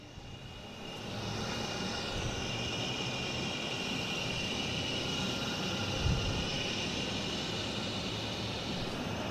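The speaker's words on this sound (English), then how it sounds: "We got Aer Lingus coming in from Dublin, an A330-300, flight 137." An Aer Lingus Airbus A330-300 arriving from Dublin lands at Boston Logan, its engines a broad, steady roar held at constant loudness throughout, fairly close and with no voices over it.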